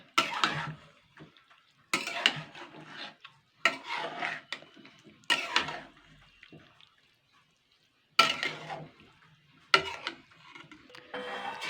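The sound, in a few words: stirring rice for chicken pulao in a pot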